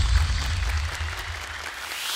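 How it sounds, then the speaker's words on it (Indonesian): A studio audience at an Indonesian children's Quran memorization show claps for a young contestant. The applause is steady and moderately loud, with low rumble early on, and it fades slightly toward the end. "Boleh tepuk tangan untuk Davandra."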